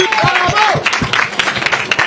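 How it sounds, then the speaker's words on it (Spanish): Applause and clapping from a festival crowd for a group of little girls at the San Mateo fiestas, a short dense patter of hands with voices mixed in. "Un aplauso para ellas."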